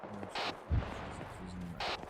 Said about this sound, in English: I'm seeing explosions on the inside of the cop.